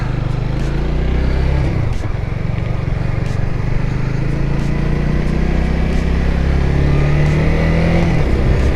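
A 2022 Honda Rebel 300 motorcycle is ridden, its engine loud and close with a steady growl, a dip near two seconds, then a rising rev as it pulls away under a constant rush of wind.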